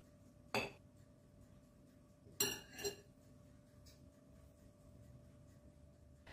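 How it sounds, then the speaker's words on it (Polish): Cake batter for a chocolate wuzetka is mixed in a large bowl with a spatula or whisk, giving three sharp clinks of the utensil against the bowl over a quiet background. "Mieszamy łopatką lub rózgą ruchem od dołu ku górze."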